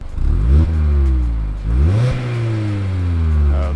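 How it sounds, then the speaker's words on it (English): A 2021 Mazda MX-5 Club sports car engine revs hard and high twice, pitch climbing then dropping, loud and close with a steady mechanical drone between revs. "Real high revving"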